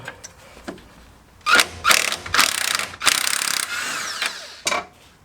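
Ratchet wrench clicking while removing a nut from a Peugeot TU5JP4 engine during a clutch job, heard as several loud bursts of rapid ratcheting with short pauses, close up and without talk.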